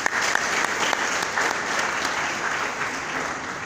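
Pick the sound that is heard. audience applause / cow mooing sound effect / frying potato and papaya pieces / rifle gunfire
audience applause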